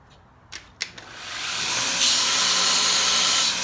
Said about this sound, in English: this work's just being done on nice, sharp 36 grit belts